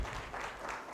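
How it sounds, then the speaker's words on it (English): Audience applause at an intellectual property conference, a steady wash of clapping hands that fills the whole moment at moderate volume without breaks. "Another big round of applause for our permanent secretary."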